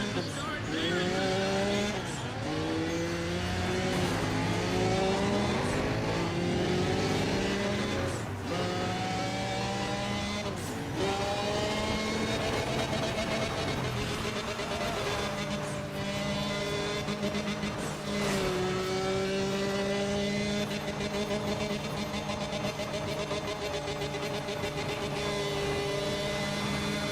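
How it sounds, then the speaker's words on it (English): Race car engines roar at the start of a Need for Speed ProStreet race, loud revving with repeated gear shifts and rising pitch sweeps, several cars layered together continuously, with occasional tire squeal. "Listen to those engines. There's the start there."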